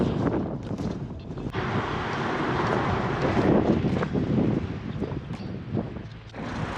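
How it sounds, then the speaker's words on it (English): Strong wind roars and buffets loudly and continuously on a bike ride in Taiwan, gusting up and down with no speech. "That's some crazy wind, man."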